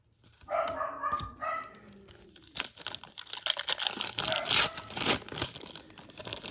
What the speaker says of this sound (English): Dog's trying to ruin my video here